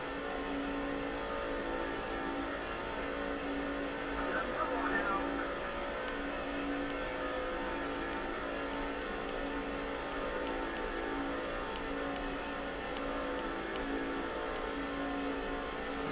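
Race car engines roar steadily on the Talladega track in the NASCAR 06 video game, a continuous dense engine drone with no clear passes standing out.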